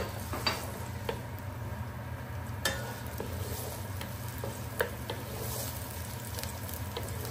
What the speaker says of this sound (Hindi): जो मैंने एक ऑनियंस लिया था उसके मैंने स्लाइस कर लिए थे, अभी वो उसको मैं थोड़ा सा फ्राई करूँगी